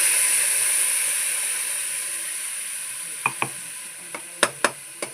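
Red chili powder and turmeric hit hot oil for a prawn malaikari, giving a soft, steady hiss, with a few sharp clicks and taps of a spoon near the end.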